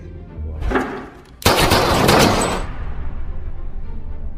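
A short burst of sharp, loud gunfire erupts after a brief lead-in, followed by a lingering rumble as the shots fade.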